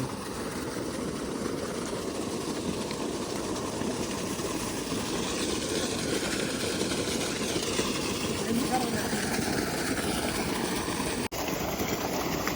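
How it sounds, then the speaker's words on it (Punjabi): A motor runs with a steady, unbroken drone that holds constant throughout, loud and close, with a brief dropout near the end. "ਆਪਾਂ ਮੋਟਰ ਚਲਾ ਲਈ ਉਹ ਮੋਟਰ ਬੰਦ ਕਰ ਲਈ ਇਹ ਚਲਾ ਲਈ"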